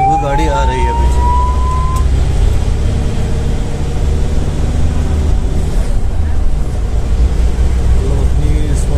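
Siren from inside an ICU ambulance driving through traffic: a brief rising wail at the start, then a loud, constant engine and road rumble.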